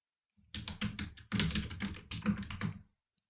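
Quick clattering keystrokes on a computer keyboard in short runs, close and crisp, with brief gaps between bursts and silence at the start and end.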